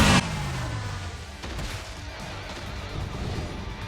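Soul Bomb special attack in the mobile game Bleach Brave Souls lands as one loud explosive crash, then a dense rumbling roar of effects that keeps going without a break.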